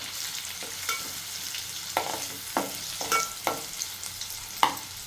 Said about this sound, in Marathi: तर हे थोडं मी परतून घेते तेलासोबत